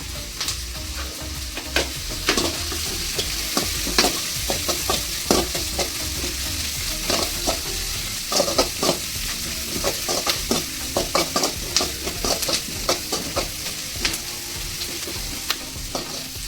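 Onion, curry leaves and garlic frying in hot oil, a constant crackling sizzle broken by many quick spatula scrapes and clacks against the pan, close and fairly loud, with no talking.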